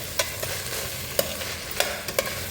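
Food fries in a pan under a low, even sizzle, broken by several sharp spatula taps and scrapes against the pan at irregular intervals, with no voices.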